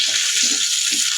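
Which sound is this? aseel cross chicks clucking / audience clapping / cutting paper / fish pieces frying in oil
fish pieces frying in oil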